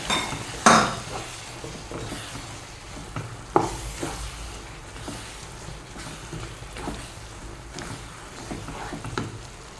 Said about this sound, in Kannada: ಈಗ ಒಂದು ಹತ್ತು ಹತ್ತು ನಿಮಿಷ ಹೀಗೆ ಮಿಕ್ಸ್ ಮಾಡ್ತಾ ಇರಬೇಕು